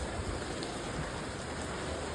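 Steady rain falls with a dense, even hiss across the whole clip, no clear individual drops, just continuous wash of noise.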